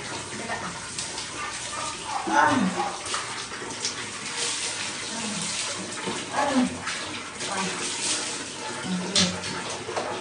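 Water runs and splashes continuously while a child is bathed, with faint voices and small movements underneath.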